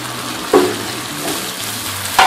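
Onion frying with browned garlic in a pan, a loud, close sizzle with a sharp burst as ingredients hit the oil and another scrape of stirring near the end.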